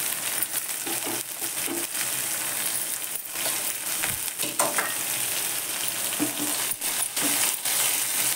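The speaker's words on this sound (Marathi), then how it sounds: "आता ह्या मिरच्या घालते मी." Green chillies fry in a pan with a dense, crackling sizzle, punctuated by scraping and stirring clatter, close and steady throughout with no voices.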